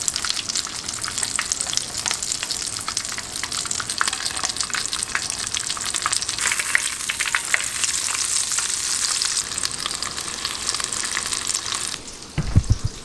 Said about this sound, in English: basically enjoy some random B-roll of frying fish